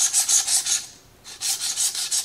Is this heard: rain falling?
no